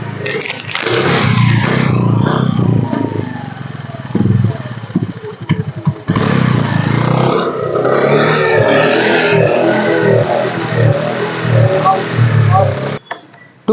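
A 2017 Honda Dio scooter, a single-owner machine, starts and runs at a steady idle, its engine hum continuous and close, with someone talking over it throughout.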